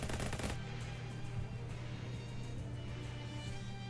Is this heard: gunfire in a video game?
yes